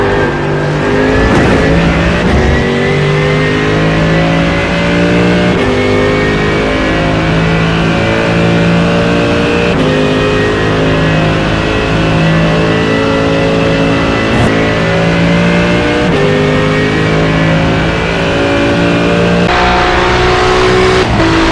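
Race car engines roar in the iRacing sim, a loud, continuous drone from the player's car with rising and falling revs and gear changes as it chases a pack that includes Ferraris on a road course.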